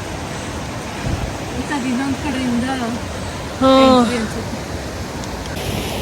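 Water flowing at Bhatta Falls in Uttarakhand makes a steady, broadband rushing roar that runs the whole time beneath people talking.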